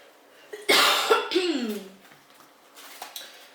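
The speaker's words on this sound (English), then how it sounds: "Excuse my cough" A single close, harsh cough bursts out, followed by a short rasping throat sound, then quiet room tone with faint breathy noise.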